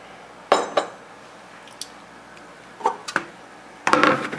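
Kitchen bowls and measuring cups being moved about on a counter, giving a few sharp, scattered clinks and knocks with quiet gaps between, ending in a louder clatter.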